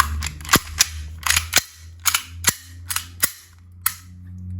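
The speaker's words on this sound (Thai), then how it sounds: "นี่เนาะจะมาทดสอบยิงกันนะครับ" A gas-powered airsoft BB gun is test-fired at close range, about a dozen sharp, loud cracks in an irregular series, some in quick pairs, with no talking.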